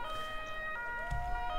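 Ambulance siren in the emergency-services video game Emergency 4, a steady electronic wailing tone with clear harmonics that shifts pitch partway through, heard briefly and alone at moderate loudness.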